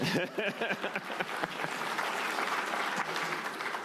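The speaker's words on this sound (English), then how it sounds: "You can clap for Jackson Heights." Crowd at a mayoral speech on education policy breaks into applause, scattered separate claps at first that quickly swell into a full, even roar of clapping.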